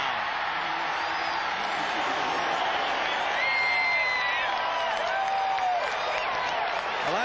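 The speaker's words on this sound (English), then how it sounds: "you hear a good amount of cheering for the visiting team" A stadium crowd at an NFL game between Washington and Phoenix cheers and applauds after a touchdown, a dense, steady roar of many voices with scattered whistles and whoops.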